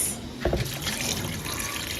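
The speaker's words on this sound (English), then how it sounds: "I'm putting our fish on the fire so I can add some water to it." Water poured into a pot of fish on the fire for a Ghanaian okra soup, a brief splashing gush followed by a steady trickling, close and moderately loud in a kitchen.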